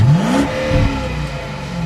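A 2020 BMW 750i pulls away and accelerates, its engine note rising in a loud, close surge that dips briefly and then settles into a steady drone over about two seconds.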